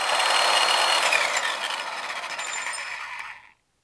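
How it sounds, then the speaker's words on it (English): An impact wrench loosens the front sprocket nut on a Harley Davidson Iron 883, a loud continuous rattling hammering burst of about three and a half seconds that stops abruptly, then silence. "Thank God for impact wrenches."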